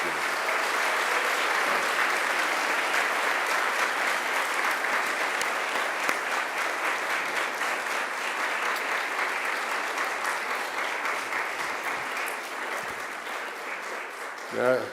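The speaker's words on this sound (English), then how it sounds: "I invite you to give them a mighty round of applause in thanks and gratitude." University graduates at a Macquarie graduation ceremony give a sustained round of applause to their family and friends, a dense hall-filling clatter of many hands that holds steady for the full stretch before tapering near the end.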